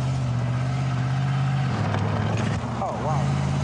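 A V8 engine on an Excalibur car of more than two tonnes runs steadily with a loud low hum and rising revs, heard close and continuous as people speak over it.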